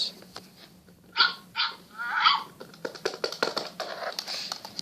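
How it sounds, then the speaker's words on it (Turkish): A toy dog lets out a few short electronic barks amid light tapping and handling clicks. "Ses çıkaran köpek miniş."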